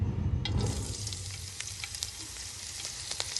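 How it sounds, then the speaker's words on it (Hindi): Shredded cabbage frying in a pan over medium heat, a close, continuous hiss with a low rumble at the start, then crackles and light stirring scrapes, no speech. "अब हम बंद गोभी है वो फ्राई करेंगे"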